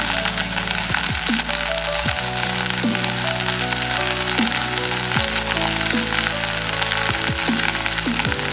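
Onion, ginger and garlic fry in a pan with a steady, close sizzle that runs the whole time beneath melodic background music.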